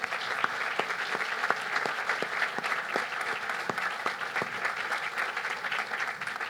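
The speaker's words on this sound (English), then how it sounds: "Let's give another round of applause to our reflection speakers" Sustained applause from an audience at a cancer center ribbon-cutting ceremony, dense steady clapping with a few sharper individual claps standing out, continuing throughout.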